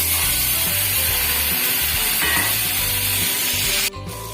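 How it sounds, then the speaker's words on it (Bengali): Loud, continuous hiss of lata fish, coated in turmeric and salt, frying in hot oil, with a low hum underneath, cutting off abruptly near the end. "লাঠা মাছগুলোকে হলুদ লবণ মাখিয়ে রেখেছিলাম, ওটা তেলের উপরে দিয়ে দেবো, দিয়ে ভেজে নেব।"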